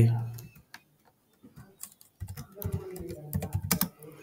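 Computer keyboard typing while entering text in the Canva design app, short bursts of soft key clicks, sparse at first and then denser, close and quiet, with a few breaths or low murmurs between.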